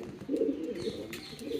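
A king pigeon on a pigeon farm gives a low, throaty coo close to the microphone, a short rolling call that swells and repeats once, with faint chirps behind it.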